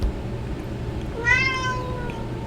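A cat lying on a blanket lets out a single drawn-out meow over faint background noise. The call is clear and fairly close, lasting under a second.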